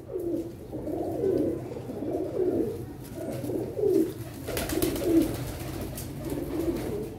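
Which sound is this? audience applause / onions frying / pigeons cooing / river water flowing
pigeons cooing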